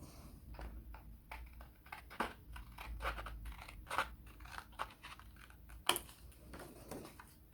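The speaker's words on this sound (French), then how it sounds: "forcément, je vais découper." Scissors snipping through paper while making a small scrapbooking gift bag, a string of close, crisp cuts in an irregular rhythm with brief pauses between them.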